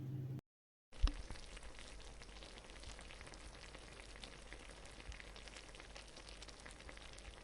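Ginger garlic paste and coriander powder frying in a pan over high flame give a steady, soft sizzle after a brief gap and a small clatter at the start, with no talking.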